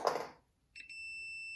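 A continuity checker beeps with a steady, sustained tone while probing a faulty button on a Zanflare F1 torch, starting after a short silence and holding on, quiet and close.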